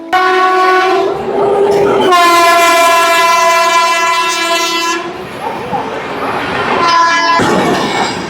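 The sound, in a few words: express train passing with horn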